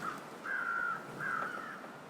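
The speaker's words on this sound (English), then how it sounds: "Now, we are hearing crows." Crows caw in the video game The Long Dark, two drawn-out calls in a row with a brief gap between them, clear and fairly close above a quiet background hiss.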